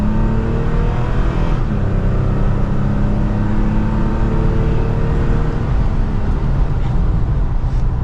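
2023 Toyota Tacoma TRD Pro with V6 engine, TRD intake and exhaust, a loud, steady engine drone and exhaust rumble heard from inside the truck while driving, without talk.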